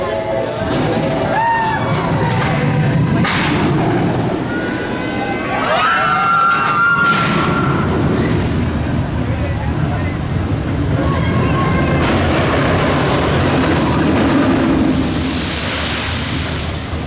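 A roller coaster train splashing through water at Busch Gardens Tampa Bay, heard as a loud continuous rush of water and wind-buffeted noise with crowd sounds and voices talking throughout.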